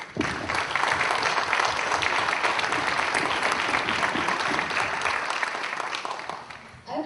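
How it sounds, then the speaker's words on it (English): A large audience applauds a group of presenters at a community event, with dense, sustained clapping that stays loud and steady for about seven seconds before thinning slightly at the end. "how about we give a round of applause for Group 3?"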